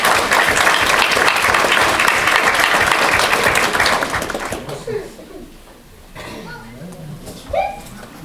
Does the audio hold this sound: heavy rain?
no